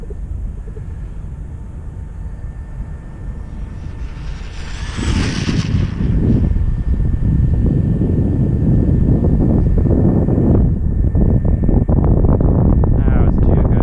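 A Losi Mini B RC car with a Castle Mamba Micro upgrade makes a full-throttle speed run, a loud rising whine building to a roar that drowns out a steady wind-buffeted background.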